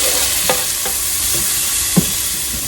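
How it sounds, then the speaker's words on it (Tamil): Steady close sizzle of onions and tomato frying with curry leaves in a pan, with a few spoon stirs and scrapes scattered over the constant hiss. "வெங்காயம் நல்லா வதக்கிக்கலாம்"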